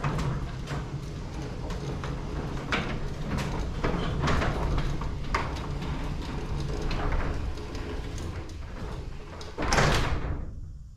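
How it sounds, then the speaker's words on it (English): A garage door with new hinges and rollers runs on its track with a fairly quiet, steady rolling rumble and scattered soft clicks, ending in a louder thud as it closes. "and rollers have been replaced with new ones, you're going to see how quiet it is"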